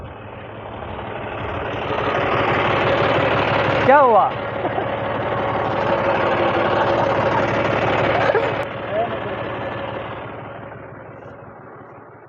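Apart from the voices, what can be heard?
tractor engine idling after chain came off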